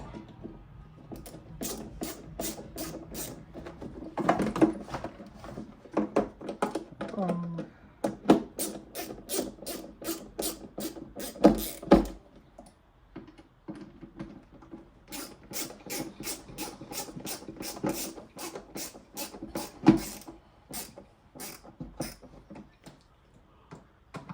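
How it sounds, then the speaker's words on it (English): Screws being driven back into a car headlight assembly, giving bursts of rapid ratcheting clicks in rhythmic runs with short pauses, close and moderately loud, with no talking. "push your screws through, and then screw them back in like so"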